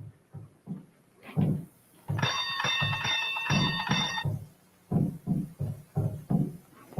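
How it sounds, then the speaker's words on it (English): A bright bell rings in a rapid jangling burst for about two seconds, set among short spoken exchanges before and after. "You ring the bell."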